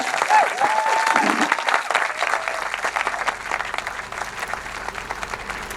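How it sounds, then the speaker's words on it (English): At a Directors UK member event, the audience gives director Kathryn Bigelow a round of applause. Full, sustained clapping from a sizable crowd starts under a brief voice and gradually thins toward the end. "please, a round of applause for Kathryn"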